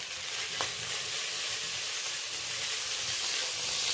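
Green chili and nigella seeds sizzling in hot mustard oil, a steady crackling fry with fine spitting pops and one sharp pop early, close and continuous, no talking.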